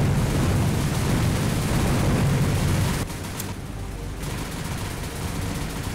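Naval guns firing in War on the Sea, a dense, loud barrage of rapid gunfire and rumbling blasts for three seconds, then dropping to a lower, steady rumble.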